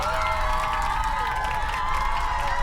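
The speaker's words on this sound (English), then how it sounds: "Applause, please." A canned burst of crowd cheering and applause plays as a sound effect, steady and bright, with whoops and shouts riding over a dense clatter of claps.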